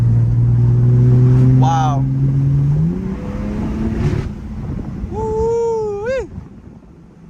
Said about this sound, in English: I absolutely love driving that F80 M3